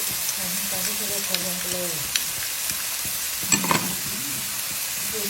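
Crab stir-fried with yellow chili in a pan sizzles steadily throughout, with scraping stirs and a few clanks from the utensil, and a brief faint voice early on.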